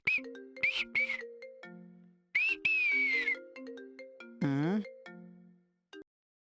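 A melodic phone ringtone for an incoming call plays in short repeated bursts of bright electronic tones, with pauses between phrases before cutting off.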